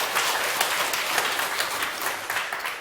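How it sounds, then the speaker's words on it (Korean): An audience at a lecture session gives a round of applause, a steady wash of many hands clapping at moderate loudness for a few seconds with no speech. "박수 한번 부탁드립니다"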